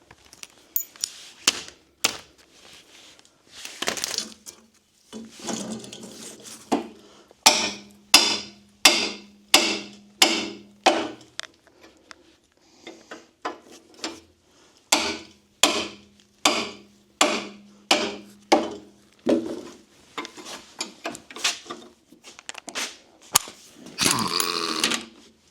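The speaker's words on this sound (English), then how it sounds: "We got the last bolt out by beating a 22mm socket on it." A 22mm socket is hammered to drive out a stuck bolt on a Lima 604 shovel, giving two close, loud runs of evenly spaced metallic blows.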